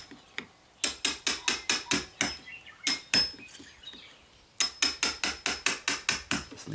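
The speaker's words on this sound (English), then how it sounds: "so I'm just going to tap it with my hammer." A hammer taps a metal deadbolt strike plate in quick, sharp bursts of clinking blows, several in a row, then a pause and another run, loud and close with quiet gaps between.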